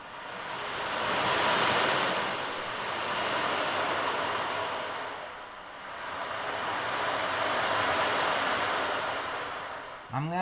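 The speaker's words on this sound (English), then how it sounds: "Sounds like the ocean." Ocean waves at sea, a broad rushing wash that swells and recedes in two long surges, fairly loud and steady with no talk over it.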